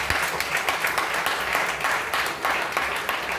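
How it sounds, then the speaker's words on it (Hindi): Audience applause at a college singing competition, a dense steady patter of many hands clapping through the whole stretch at moderate level, with no voices over it. "अगर प्रस्तुति पसंद आई हो तो तालियां बजाइए।"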